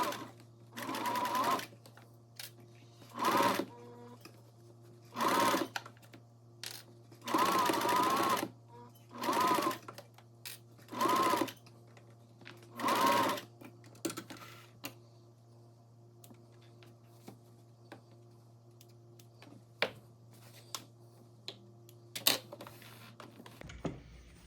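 A sewing machine double-stitches the seam of a homemade fabric stuff sack in a series of about seven short, loud bursts of rapid whirring stitches. Quiet pauses separate the bursts, and light handling noises follow at the end.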